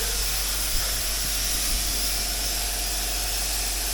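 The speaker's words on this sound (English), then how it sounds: "He's doing the undercoating, so come over here." A continuous loud hiss of undercoating being sprayed beneath a 1991 Chevy G20 van, steady and close with no pauses or voices.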